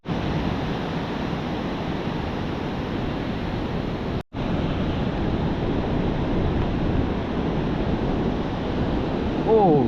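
Ocean waves surging onto a flat, open beach with no gutters, a steady broad wash of surf mixed with wind buffeting the microphone, loud and continuous with one brief gap.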